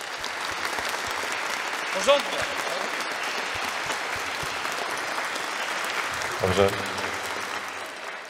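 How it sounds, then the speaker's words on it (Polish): Applause from a concert audience, a dense, steady sheet of clapping that runs the whole time, with a voice briefly speaking over it. "wielkie brawa dla was"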